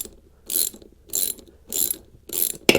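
A ratchet fitted with a 1/2-inch socket tightens the valve nut on a tire wheel, four even bursts of close, rapid pawl clicking followed by a final sharp click, with no talk.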